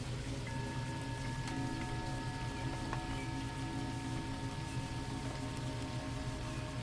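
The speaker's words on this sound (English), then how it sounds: "let yourself rest inside the sound of the rain around you" Steady rain falling with an even, unbroken hiss of drops on surfaces, soft and constant throughout with no voices.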